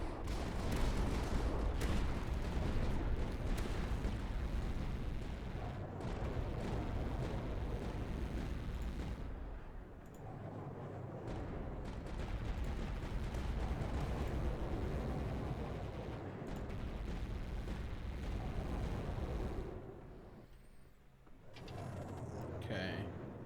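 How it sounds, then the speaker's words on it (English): Explosions and gunfire rumble continuously in the strategy video game Tower Dominion, a loud, dense barrage that briefly dips and then returns before cutting out near the end. "I want to do the explosion, and then we'll do that."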